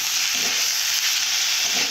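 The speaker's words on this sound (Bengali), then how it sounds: "দেওয়ার পর এইভাবে ভালো করে ভেজে নেব।" Fenugreek greens stir-frying in oil, a loud, dense, close sizzle with a continuous hiss and no talk.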